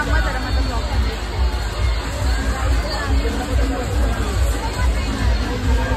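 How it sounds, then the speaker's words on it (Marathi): A dense crowd at a busy water park fills the air with steady, loud babble of many overlapping voices, continuous and close all around, with no single voice standing out. "खूप जास्त गर्दी आहे."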